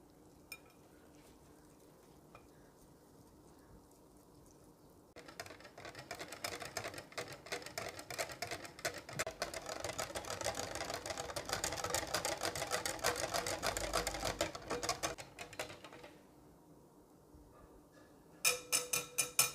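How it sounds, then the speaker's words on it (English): A fork or whisk beats flour and lukewarm water into a runny batter, a soft rapid clicking and stirring that runs steadily for about ten seconds between quieter stretches, with no talk. "Now use a fork or a whisk and whisk this well until a batter is formed."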